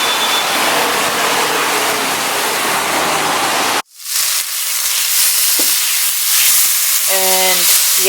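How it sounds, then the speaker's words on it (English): Loud, steady sizzling of bananas frying in a hot pan, briefly cutting out midway, then resuming with a few utensil clinks. "I've been obsessed with frying bananas and scrambling eggs with them, with onions."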